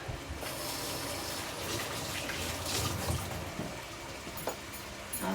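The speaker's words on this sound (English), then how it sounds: "Let me just rinse my hand off." Hands are rinsed under a running kitchen tap during swordfish prep, producing a soft, steady gush of flowing water with slight splashy variations throughout and no talking.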